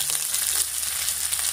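Black cumin, crushed garlic, chopped onion and slit green chillies frying in hot oil, a steady close sizzle with faint stirring, no voices.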